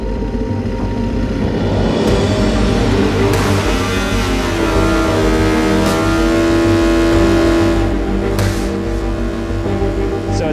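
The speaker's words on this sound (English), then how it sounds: "behind me is the amazing Scout FTR750cc race-only dirt track motor" An Indian Scout FTR750 race-only dirt-track motorcycle engine runs loud and close, a steady, rough mid-range drone with a few brief revs, alone with no talking.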